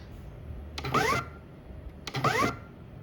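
A CAB MACH 2/300 label printer prints 33x15 labels in two short, evenly spaced whirring bursts, each a quick mechanical feed, with quiet room hum between and no talking.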